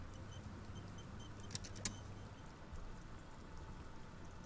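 Rain falls in the video game Disco Elysium, a quiet, steady patter under a low hum, broken by two sharp ticks near the middle, with no one speaking.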